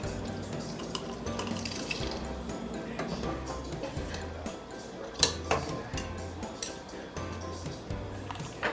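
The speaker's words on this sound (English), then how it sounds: "Now I'm gonna take this, drop it in boiling water, just like that." Spaetzle dough drops into a pot of boiling water amid steady bubbling and watery splashing, with a rhythmic low scraping and occasional metallic clinks of a spaetzle maker over the pot.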